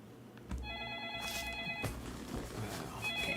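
A telephone ringing in a room, an electronic warbling ring that starts, pauses and starts again, fairly faint, with some quiet background noise and no speech over it.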